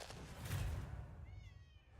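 A cat meows during a Hearthstone Battlegrounds livestream, a short tonal cry near the microphone that rises over steady room noise in the second half, with no talking over it.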